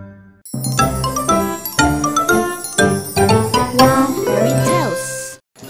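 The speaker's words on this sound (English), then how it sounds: "The bell rang out 9 echoes" Bright bell chimes ring out in a fairy-tale scene, a run of struck tones with long ringing echoes overlapping one another, loud and close, ending in a shimmering fade.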